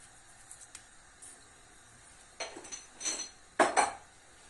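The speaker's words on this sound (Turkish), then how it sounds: "Ve artık kapağını kapatıp kaynamasını bekliyoruz." A metal lid set onto a pot of chickpea and vermicelli soup, a few quiet clinks and rattles ending in one sharper clatter, close but faint, no voices.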